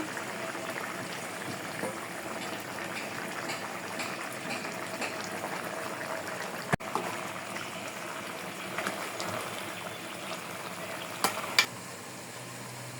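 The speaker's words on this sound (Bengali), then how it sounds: "আমার লতির ঝোলটা ফুটে উঠছে আমি মাছ দিয়ে দেবো" Kochu loti curry with jackfruit seeds and fish head and tail simmers in a pot, giving a steady, soft bubbling hiss close by, with a couple of light clinks near the end.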